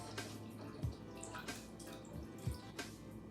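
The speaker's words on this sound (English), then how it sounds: "I'm gonna measure out a little bit more of the vegetable broth with some water" Vegetable broth and water poured into a measuring beaker while making veggie kebabs and pita bread, heard as soft wet splashing and dripping with a couple of low thumps, quiet and close with no talking.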